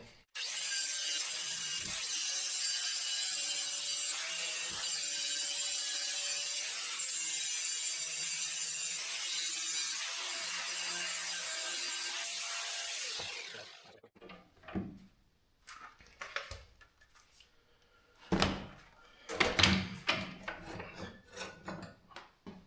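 Sharpening a Fuxtec push mower blade gives a steady, harsh grinding that runs for about thirteen seconds and then cuts off. Scattered metallic clanks and knocks follow, with quiet pauses between them.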